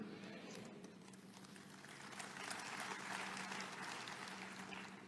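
A church congregation claps together in a broad, steady wash of applause that swells slightly midway and carries on throughout, with no talking over it.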